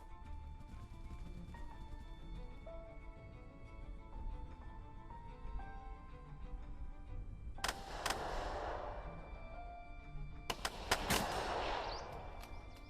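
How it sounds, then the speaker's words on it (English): Gunfire from the hex-based squad tactics game Second Front: after a steady low rumble, two sharp loud bursts cut in around eight and eleven seconds, crackling and decaying, with smaller scattered pops between. "That machine gun and infantry are hurting me."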